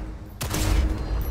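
A burst of rapid gunfire at a tactical target practice range in the video game Cyberpunk 2077, starting suddenly after a quiet moment and running as a loud, dense stream of shots to the end.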